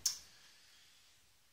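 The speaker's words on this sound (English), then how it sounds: "Makes a kind of clicking noise, like the hard drive is" A Sky Q Silver 2TB box with a Seagate hard drive gives a single sharp, faint click that decays quickly into near silence.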